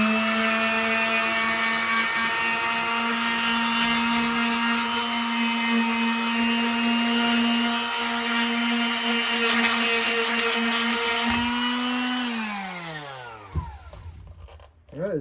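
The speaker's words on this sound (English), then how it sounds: "This is just a regular sander" A regular orbital sander polishing aluminum, a steady high-pitched whining drone held for about twelve seconds before spinning down with a falling pitch and stopping.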